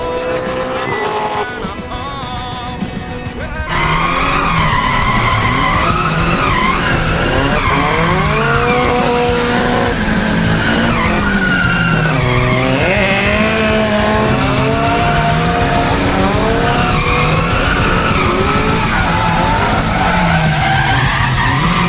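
A V8 Supercar on a demo run at The Bend, its engine roaring as the tyres skid. The sound is loud, close and continuous for the whole stretch, with no talking.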